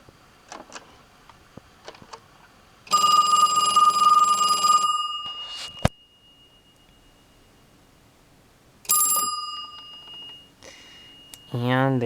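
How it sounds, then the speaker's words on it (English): A Western Electric 2554B telephone's single gong ringer rings loudly in two bursts, a long metallic ring of about two seconds and a shorter one later, with quiet handling noise between and brief speech at the end. "I was not expecting a single gong ringer to be quite that loud"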